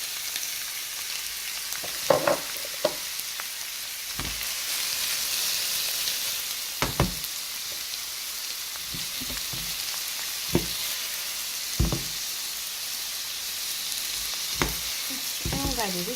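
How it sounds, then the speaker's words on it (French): Onions and leeks sauté in a pan with a steady broadband sizzle, broken by sharp scraping clicks of a wooden spoon stirring every second or two; close and fairly loud, with no voices. "On va les laisser revenir. On mélange avec une cuillère à bois."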